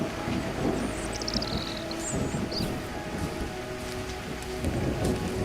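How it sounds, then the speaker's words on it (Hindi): Heavy rain falls in a steady wash of noise, with a few faint rumbles and brief higher sounds in the background. No one talks. "बारिश भी तेज थी"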